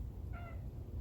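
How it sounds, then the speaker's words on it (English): A domestic cat gives a single short meow, faint and brief, against a low background hum. "here comes my cat"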